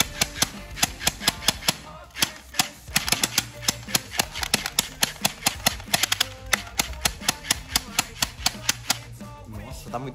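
A gel blaster toy gun upgraded with two springs fires rapidly, producing a long string of sharp, clacking snaps in quick, uneven rhythm close by, with a voice talking in between.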